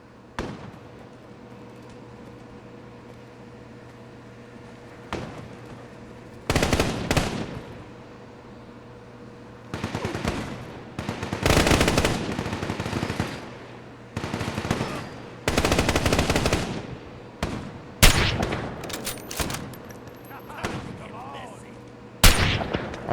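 Bursts of automatic gunfire in Fallout 4, loud rattling volleys separated by quieter gaps with a low steady hum underneath, several clusters of rapid shots spread across the stretch.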